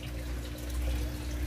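Water runs steadily out of a buried PVC drain pipe at a crayfish pond, a continuous close splashing trickle with a low broadband rush throughout.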